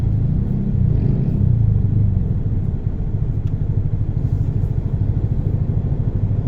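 Slow, congested road traffic of cars and motorcycles, heard as a steady low engine rumble from nearby vehicles creeping along, continuous with no clear accelerations.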